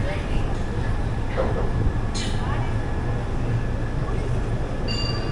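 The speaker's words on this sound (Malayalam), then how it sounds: "ഇത്രയും പെട്ടെന്ന് വണ്ടി എടുത്തത്" The 16511 Kannur Express pulls away from a station, rumbling steadily nearby with a low mechanical drone, a brief screech partway through, and faint voices in the background.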